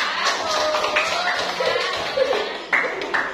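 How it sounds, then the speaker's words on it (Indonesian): A group claps together in a classroom-style discussion session, scattered applause heard close alongside voices talking. "Kita kasih tepuk tangan untuk kita semua."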